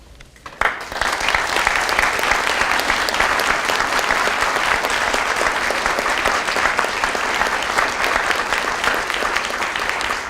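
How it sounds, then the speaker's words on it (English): A police department awards ceremony crowd applauds retired officers, loud sustained clapping that starts abruptly and continues steadily with no talk over it. "Can I get a round of applause, and would our retirees please stand?"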